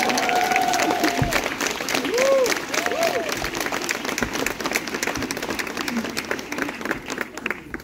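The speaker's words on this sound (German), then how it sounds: "Ich finde, das ist ein Applaus wert." Audience applause at a Bergretter fan event stage, a steady wash of crowd clapping filling the space, with some voices and tonal sounds rising briefly over it before it thins out.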